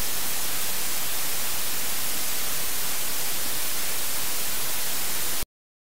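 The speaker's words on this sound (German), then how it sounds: "das weiße Rauschen ist so die Komplettverteilung." Steady broadband white noise, a loud and even hiss that runs unchanged for about five and a half seconds and then cuts off abruptly into silence.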